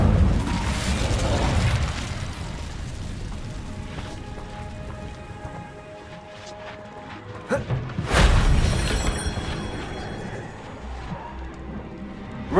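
Fire spell blast in a wizarding video game, a burst of crackling, rushing noise that swells into a loud whoosh, with a second sharp blast a few seconds later, settling into hissing crackle.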